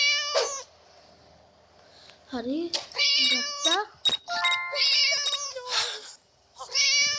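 A cat in the Scary Teacher video game meows repeatedly, with several sharp, whining meows in quick succession, near and loud, and a person speaks briefly among them.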